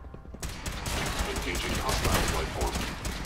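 Dense, rapid gunfire from the video game Fallout 4 starts abruptly and keeps up as a loud, continuous burst of overlapping shots, with a voice speaking underneath.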